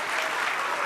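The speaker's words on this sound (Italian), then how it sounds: "vi ringrazio dell'applauso" An audience at an end-of-season celebration at the Kursaal applauds, a dense, steady wash of many hands clapping at once, loud and sustained without pause.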